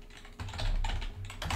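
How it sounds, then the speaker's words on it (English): Rapid typing on a computer keyboard while coding a React and ASP.NET table component, a dense, continuous patter of close keystrokes with no voices. "I'm getting annoyed typing it."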